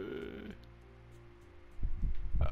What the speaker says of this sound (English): Dillon, dude, quit burping.